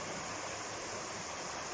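Steady broadband rush of clear mountain river water flowing beside a riverside eating spot in Pueblo Bello, continuous and fairly close, with no voices.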